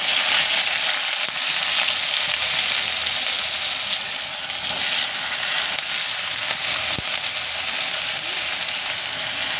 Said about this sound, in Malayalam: ഇനി അതിലേക്ക് നമുക്ക് ചെറുതായി അരിഞ്ഞു വെച്ച സവാള ഇട്ട് കൊടുക്കാം